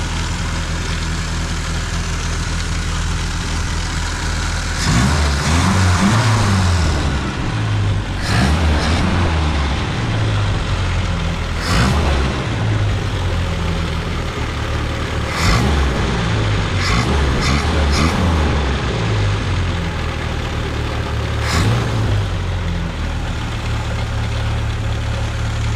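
A 1971 Triumph Spitfire MK III engine idles steadily and quietly nearby, a continuous low hum with a faint light rattle, interrupted now and then by brief louder bursts that sound like revving or handling noises.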